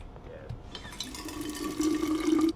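Joy water in the game We Happy Few runs and trickles as it is filtered, rising to a fuller pouring and filling sound with a steady tone toward the end, fairly close.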